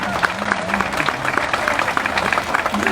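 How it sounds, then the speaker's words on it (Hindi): Dense, steady applause from a crowd fills the stretch, with some voices mixed in underneath. "जोरदार तालियों से इनका स्वागत कीजिए"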